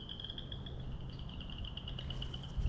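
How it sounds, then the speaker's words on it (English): Chorus frogs calling in spring, a faint continuous rasping trill like fingers run along a comb, steady and distant over low outdoor background rumble. "Those are chorus frogs."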